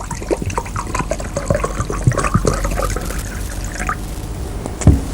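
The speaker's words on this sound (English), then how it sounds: "Here is glacial acetic acid which I am taking into the beaker." Glacial acetic acid poured into a beaker in a lab demonstration, a close liquid splashing and trickling with small drips and clinks, moderately loud and alone without talk.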